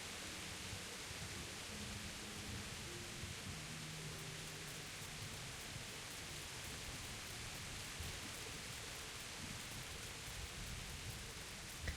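Steady, dense rainfall in the medieval game world of Kingdom Come: Deliverance, an even wash of hiss with no pauses or voices, soft and constant throughout.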